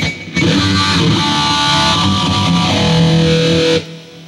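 Distorted electric guitar run through a BOSS eBand JS-10 with an 80s-style phaser effect, a sustained, swirling chord passage played loud and dry without delay or reverb, stopping abruptly near the end.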